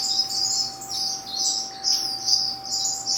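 Aviary birds chirp steadily, many bright, high tweets overlapping in quick bursts at close range, joined by a few squawks over a faint steady hum, with no talk.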